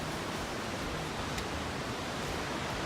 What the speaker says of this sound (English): You still got the sound of the river.